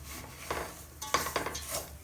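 A ladle scraping and stirring semolina being dry-roasted in a pan, giving rough, gritty strokes in uneven bursts, fairly close and alone.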